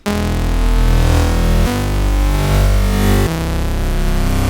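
A loud, growly dubstep mid bass synth made with FL Studio stock plugins, with a gritty, buzzing tone, played as sustained notes that change in three sections.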